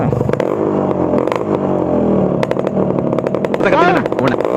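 A Yamaha RX two-stroke motorcycle fires up and revs loudly nearby, its buzzing, crackling engine note rising and falling in quick blips, with a higher rev surge toward the end and voices talking over it.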